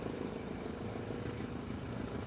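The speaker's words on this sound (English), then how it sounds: "Helicopter right over top of us." A helicopter flies overhead, heard as a steady, fairly faint rotor and engine rumble that holds evenly throughout with no speech.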